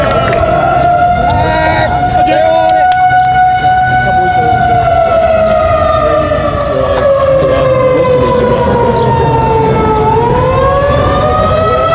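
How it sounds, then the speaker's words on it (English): A tornado siren wails loudly and steadily near a baseball game, its tone slowly sliding lower and then rising again, over crowd noise with a voice talking. "I think a tornado siren lasts for 60 or 90 seconds."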